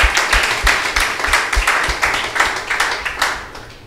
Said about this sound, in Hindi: जोर से तालियां बजाइए पिता परमेश्वर के लिए